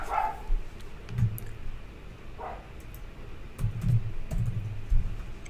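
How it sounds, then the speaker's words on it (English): A small, elderly, nearly toothless dog gives a few short, muffled yips and barks at a distance, spaced apart, mixed with soft computer keyboard typing close by. "She's this little runt of a dog, barely any teeth, but she sure can bark."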